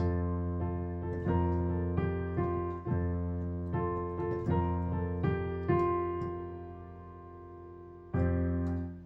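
Piano chords struck one after another at a steady, unhurried pace, each ringing out with low bass notes underneath, the left hand playing a full octave lower.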